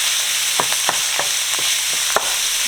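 Ground beef fries in a pan as flour is stirred in, with a constant bright sizzle and a series of sharp spoon scrapes and taps against the pan at irregular intervals.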